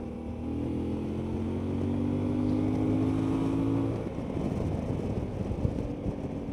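A CF Moto 450MT adventure motorcycle overtakes on a road in northern Portugal, its engine note droning steadily and climbing slightly in pitch for about four seconds before the tone drops away into wind rush.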